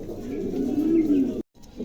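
Lahore pigeons coo in a low, continuous burbling run close by, breaking off for a brief moment before the cooing resumes.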